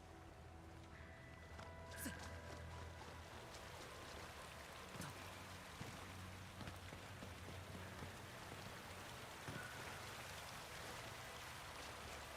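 Steady waterfall in the video game Arknights Endfield, a constant rushing hiss of falling water filling the scene at moderate level, with faint game effects layered over it.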